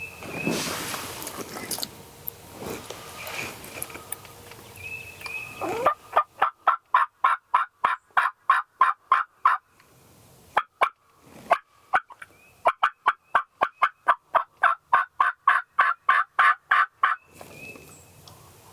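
Wild turkey gobbling in spring woods: distant gobbles ring out at the start and end, and in between comes a long series of sharp, evenly spaced rhythmic strikes, loud and close.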